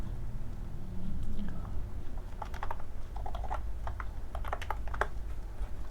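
Soft, close clicking of keys on a computer keyboard in scattered quick bursts over a steady low hum, with no talking.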